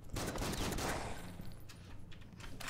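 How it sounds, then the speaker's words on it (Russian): Rapid bursts of gunfire from a shooting snowman enemy in the video game Killing Room, dense overlapping shots loud and continuous at first, then thinning into scattered sharper cracks. "Он уворачивался, он уворачивался от моих выстрелов."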